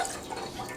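Warm water poured into a bread maker pan for pumpkin pan roll dough, a short, steady, close trickle and splash of liquid.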